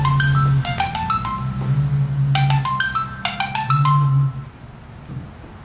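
An HTC Evo phone rings through its small built-in speaker: bright, tinny chiming note patterns repeat in bursts over a buzzy low hum, loud and close, then cut off abruptly near the end.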